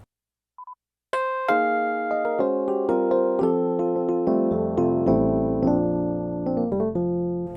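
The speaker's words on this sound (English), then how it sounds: "Like a Bell Rhodes." A bright, bell-like Rhodes-style electric piano tone on a Casio PX-770 or Kawai KDP75 digital piano plays a sequence of chiming notes and chords, clear and close, after a short electronic beep.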